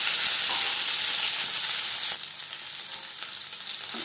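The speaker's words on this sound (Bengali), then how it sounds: "দিয়ে দিলাম ম্যারিনেট করে রাখা মাছ" Marinated tilapia pieces sizzling in hot oil in a pan, a loud steady hiss that carries on throughout with a slight drop in intensity partway, with no talking.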